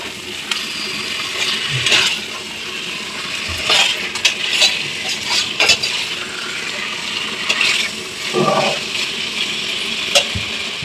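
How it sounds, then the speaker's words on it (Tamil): Chicken marinated in yogurt and turmeric sautés in a pan for biryani, a steady close sizzle broken by repeated scraping and clinking of a spoon against the pan. "சிக்கனை போட்டு நல்லா வதக்கணும்."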